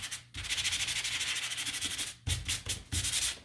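Sandpaper rubbing over the rough surface of a craft gnome, following the grain in a steady run of quick back-and-forth strokes. It goes on close and fairly loud, stops briefly, then continues in shorter bursts.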